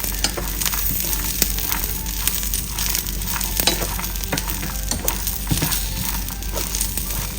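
Green chillies roast on a hot griddle with a constant close sizzle, dotted with sharp crackles and small pops.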